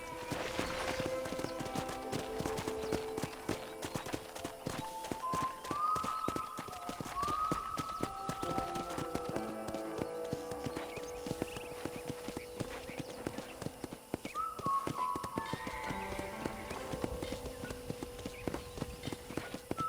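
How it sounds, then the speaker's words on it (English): Steady clip-clopping of horse hooves on hard ground in the game Red Dead Redemption, a continuous quick rhythm, with scattered birdsong and tones in the background. "I picked out a fine horse for you."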